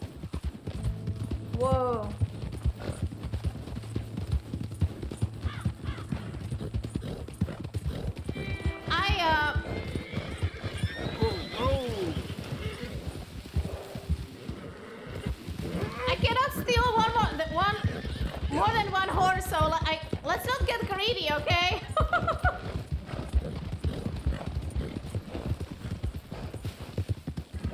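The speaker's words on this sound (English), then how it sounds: "Oh, this horse is freaking fast, people." Horse hooves gallop in a fast, steady clip-clop rhythm in Red Dead Redemption 2, continuous beneath frequent excited talk, with a whinny and brief exclamations breaking through.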